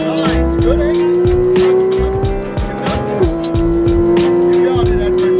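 Supercar roaring around a Las Vegas race track at full throttle, loud engine whine climbing steadily, then braking and downshifting with sharp blips and tire squeal, a voice talking over the engine noise throughout.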